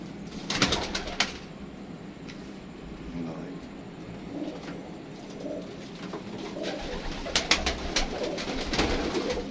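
Soft pigeon cooing repeats under a hum of background noise, with occasional sharp clatters and light rustling nearby.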